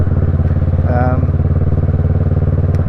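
A motorcycle engine runs close by, a loud steady throbbing rumble throughout with a brief rise in pitch near the middle, heard alone without talk.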